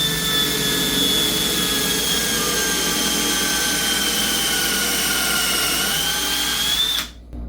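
A power drill bores into aluminum through a precision drill guide set at a 30-degree angle, giving a loud, steady high-pitched whine that holds for about seven seconds before suddenly stopping.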